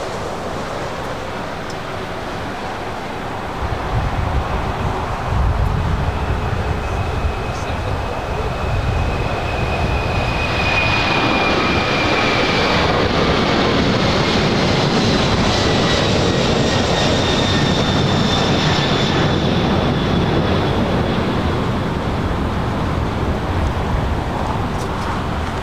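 A "Queen" jumbo jet taking off, its engines building from quiet to a loud sustained roar with rising whining tones, continuing strongly through the end, no voices.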